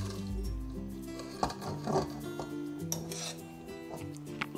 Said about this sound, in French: Je vais maintenant verser la sauce tomate dans les tripes.